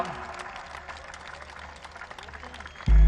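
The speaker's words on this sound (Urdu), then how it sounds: "راشد حسین ربانی کے حوالے بھرپور انداز میں تالیاں بجائیے اور استقبال کیجیے راشد حسین ربانی کا" A crowd claps steadily at a PDM political rally in Pakistan, welcoming Rashid Hussain Rabbani. The applause is moderately loud and continuous, then a sudden loud burst of sound cuts in at the very end.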